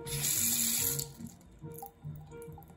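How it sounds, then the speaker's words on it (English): Water runs from a leaking bathroom sink faucet, a loud steady hiss for about a second before it drops to a quieter trickle with faint knocks. "You can see this one over here is leaking."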